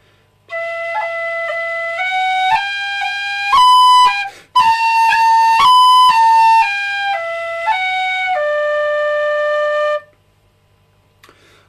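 Tin whistle playing a few measures of the reel The Dunmore Lasses: a clear, bright melody of stepped sustained notes, loud and close, played alone with a brief breath gap midway.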